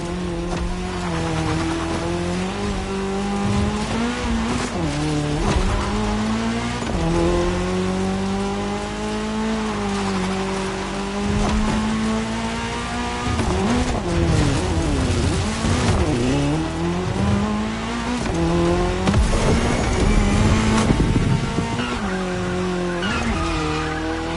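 Race cars tear around a tarmac circuit in The Crew Motorfest during a cross-terrain race, engines droning loudly and steadily with shifting pitch, tires squealing through corners, alongside game music.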